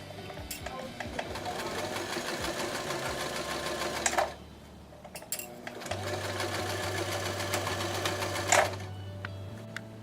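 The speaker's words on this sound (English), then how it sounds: "And then you will continue to sew the short side. Make sure to backstitch at this point as well." Sewing machine stitching the short side of a pillowcase, a close, rapid mechanical whirr in two runs separated by a short pause, with clicks at each stop.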